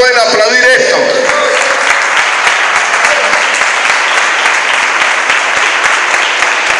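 A church congregation at a sermon applauds loudly and continuously, a dense close wash of many hands, with a brief sung or spoken voice fading at the very start.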